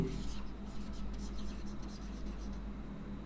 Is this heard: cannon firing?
no